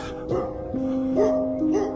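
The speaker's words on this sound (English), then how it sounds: "they got a bunch of dogs. at that gate." Dogs barking at a gate, a few sharp barks and yips in quick succession with whining tones between, fairly close and loud, with some speech-like sound mixed in.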